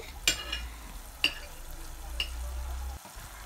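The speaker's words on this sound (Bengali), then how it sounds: "সো আমার মশলাটা বুনো হয়ে যাচ্ছে" Spice paste sizzling and frying in a pan for a small fish curry with green mangoes, a steady low sizzle broken by three sharp stir scrapes, ending abruptly.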